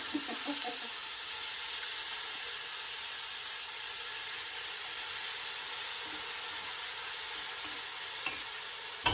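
Blended onions and dry chilies fry in a pot for butter chicken, a steady loud sizzle running throughout, with occasional clinks and scrapes of stirring near the start and end.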